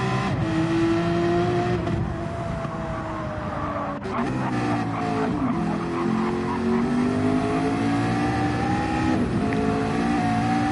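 Race cars from Gran Turismo 7 in an endurance race at the Nürburgring GP circuit, with steady engine drone and shifting revs from several cars, one further off, continuous and loud throughout.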